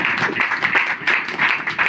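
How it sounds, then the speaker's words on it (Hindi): A congregation at a church sermon gives rhythmic group clapping for Lord Jesus, a dense continuous patter of many hands lasting under two seconds. "आइए हम प्रभु यीशु के लिए एक जोरदार ताली लगाएंगे।"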